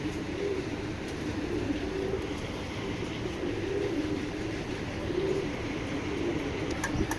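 Pigeons, club show birds kept for collection, cooing in repeated soft low rolling calls over a faint steady background rumble, with no one talking.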